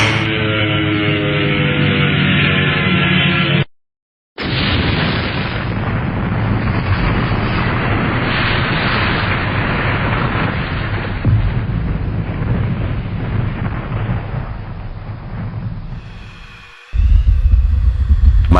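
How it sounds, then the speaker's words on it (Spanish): A huge explosion as a plane prototype crashes onto a house: a loud, sustained roaring blast and rumble that fills the scene for over ten seconds, briefly cut off, then ending in a fresh loud burst. "La explosión era enorme, una humareda negra mezclada con el fuego incandescente salía justo de mi casa"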